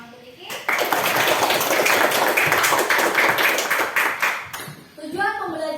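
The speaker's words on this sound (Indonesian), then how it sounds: "Boleh tepuk tangan untuk Iki." Classroom students clap for a classmate in a dense burst of applause lasting several seconds, then it fades as a teacher starts speaking.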